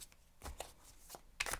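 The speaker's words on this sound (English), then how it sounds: "let's shuffle the cards" Tarot cards are shuffled in a quiet room, giving soft, faint riffling and brushing bursts spread over a moment, with no one speaking.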